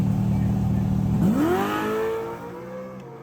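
A carbureted small-block Fox body Mustang drag racing: a loud, close engine drone that climbs sharply in pitch as it accelerates hard, then settles and fades slightly as it pulls away.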